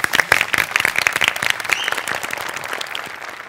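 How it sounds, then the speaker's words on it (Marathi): Loud, dense applause from a studio audience at a Marathi comedy show's award presentation, steady sharp claps filling the room and tapering slightly toward the end. "टाळ्या."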